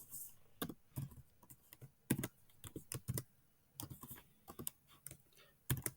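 An equation is typed in on a keyboard, with irregular bursts of close, crisp key clicks and short pauses between groups of strokes.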